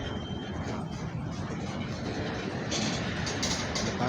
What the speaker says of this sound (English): CN freight train's finally starting to move.